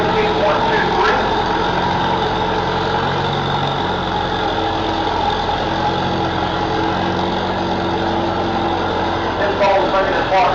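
Antique tractor engine running steadily under load while pulling a 36,000-pound weight sled in a 5,500-pound classic pulling class, a loud continuous drone throughout.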